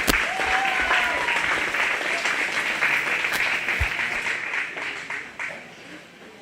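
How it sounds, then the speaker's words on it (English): A crowd applauds a young exhibitor at a 4-H/FFA cattle show after an Angus breeding heifer is judged, sustained clapping across the arena that gradually thins out toward the end. "Let's give that young lady a round of applause."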